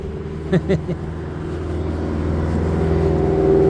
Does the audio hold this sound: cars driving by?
yes